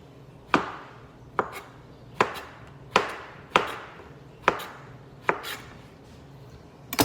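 Knife chopping zucchini into half moons on a cutting board: eight sharp, evenly spaced knocks, close and clear, with no talking.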